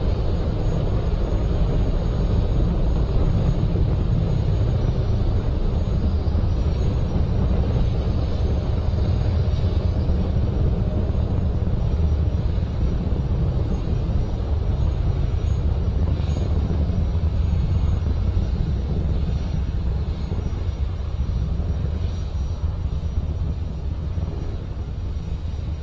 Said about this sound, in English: We've launched from Space Launch Complex 40 at Cape Canaveral.